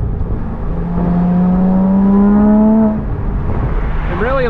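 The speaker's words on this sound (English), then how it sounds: "Exhaust on, fourth to third." A Porsche Boxster Spyder with its exhaust valves open blips through a rev-matched fourth-to-third downshift, the engine note rising steadily in pitch and then dropping away, with a brief rev flare at the end.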